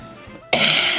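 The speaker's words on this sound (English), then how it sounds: "we are back with my coughing co-host" A podcast co-host coughs abruptly at a live comedy-club taping, a loud, close burst of harsh cough and throat-clearing noise that erupts halfway through after a quiet stretch and fills the rest of the moment.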